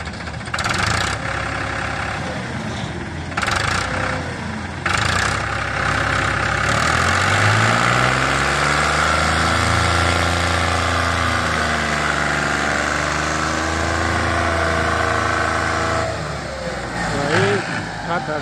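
A tractor hauling a heavily loaded trailer idles and then revs with a heavy, throbbing low rumble that rises and falls, while people talk over it.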